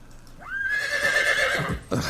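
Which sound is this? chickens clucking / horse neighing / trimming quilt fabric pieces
horse neighing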